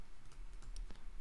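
Keyboard shortcuts typed on a computer keyboard, a few faint quick key clicks in a quiet room.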